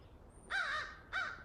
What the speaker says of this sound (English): Got a bird going.